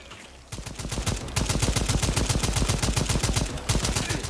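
Automatic gunfire aimed at raptors in the video game Second Extinction, a loud, rapid, continuous stream of shots hammering away for several seconds with hardly a pause.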